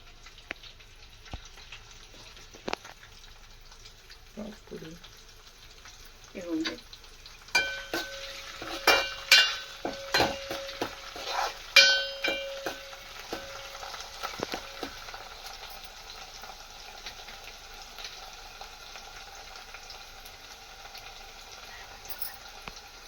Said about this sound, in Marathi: यामध्ये टाकलाय आपला कांदा टाकलाय आणि तेजपत्ता, तेल ते फ्राय करायला.